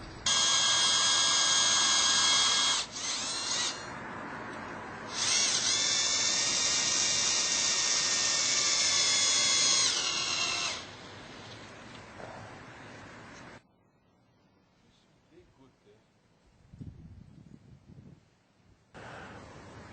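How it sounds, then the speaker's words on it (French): Power drill driving screws to fix a wooden piece onto a wedge on a post, two loud whining bursts of a few seconds each with a brief pause between, then quiet handling and faint knocks. "on va mettre une cale qui sera vissée sur le poteau et on va visser ce morceau de bois dans la cale"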